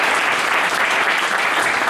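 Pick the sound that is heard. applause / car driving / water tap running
applause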